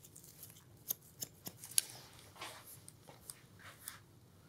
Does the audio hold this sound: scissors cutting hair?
yes